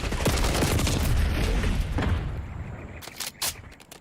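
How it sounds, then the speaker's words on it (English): A video-game grenade blast roars loud and close, a dense rumbling boom that slowly fades over a few seconds, followed by a couple of sharp distant gunshot cracks. "Enemy grenade."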